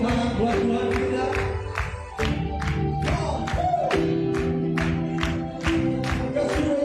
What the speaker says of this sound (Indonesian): Mari kita tepuk tangan buat Tuhan kita